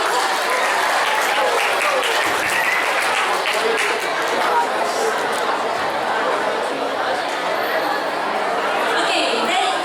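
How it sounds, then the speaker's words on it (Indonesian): A school student council debate audience gives enthusiastic applause for two pairs of candidates, dense continuous clapping mixed with crowd chatter and scattered voices filling the whole stretch. "Beri tepuk tangan yang meriah untuk kedua pasangan calon kita."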